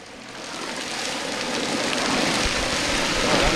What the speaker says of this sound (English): That's crackling cooking right there.